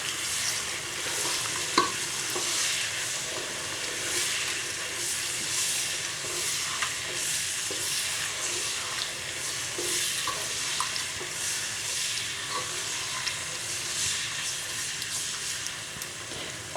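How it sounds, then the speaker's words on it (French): Shrimp with persillade and spices sizzle and hiss steadily in a pan, a dense continuous fry close up with occasional faint scrapes of stirring and no talking. "On mélange tout ça, que les crevettes s'imprègnent bien de la persillade et des épices."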